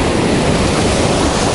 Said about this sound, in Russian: Смотри, какая волна.